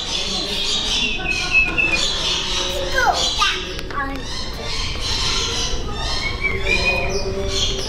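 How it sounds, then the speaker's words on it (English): In the desert bird exhibit at the National Aviary, a bird gives repeated chirping calls and short squawks, fairly close, mixed in with a child and an adult talking nearby. "Oh, look, he's calling, he's singing,"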